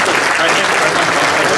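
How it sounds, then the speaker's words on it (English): A brief burst of loud audience applause from a full room, dense and continuous, with voices mixed in under the clapping. "Can we give Scott a big round of applause?"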